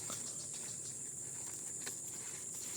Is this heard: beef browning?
no